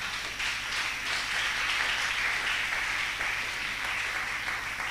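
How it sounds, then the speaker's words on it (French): A church congregation applauding, a steady sustained wash of clapping hands at moderate distance that fills the whole stretch without a break. "Acclamons la parole du Seigneur."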